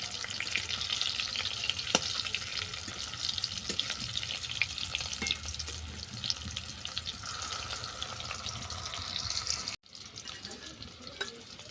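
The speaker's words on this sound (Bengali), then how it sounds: "দেখো আলু আর কচু বাদামি করে ভাজা হয়ে গেছে এটাকে তেল থেকে নামিয়ে নিচ্ছি" Potato and taro pieces frying in hot oil for a taro and chicken curry, giving a steady close sizzle and crackle throughout with occasional stirring, briefly dropping near the end; no talking.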